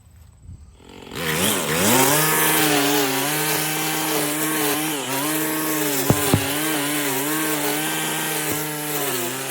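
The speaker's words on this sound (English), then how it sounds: "I'm going to use this bad boy to do some weed whacking." Gas-powered weed whacker starting up and running steadily at close range, its high motor whine holding a strong, even pitch with slight dips as it cuts through weeds.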